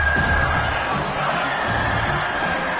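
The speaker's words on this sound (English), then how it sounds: "Here comes second down, and this crowd is turning it up a notch." Roaring stadium crowd in College Football 26, a steady dense wall of cheering and shouting during a red-zone drive, loud and sustained without breaks.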